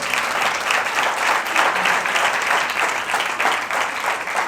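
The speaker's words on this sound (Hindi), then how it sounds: "आए जिनकी माएँ जिंदा हैं उनके लिए जोरदार तालियां बजाएं।" An audience at a Mother's Day church gathering claps loudly and steadily, a dense, continuous wash of applause from many hands throughout.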